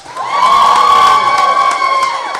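A crowd at a student media awards night cheers and applauds loudly, with high shouts and whoops over dense clapping that holds steady throughout.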